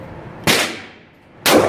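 Two sharp, loud 9mm pistol shots about a second apart, each cracking out and ringing off into a decaying tail, with no voices.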